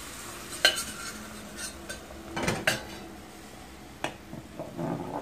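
Syrup poured into roasting semolina helva in a pan, a few sharp clinks of a utensil against the pot and brief bursts of hissing sizzle with stirring scrapes, no talking.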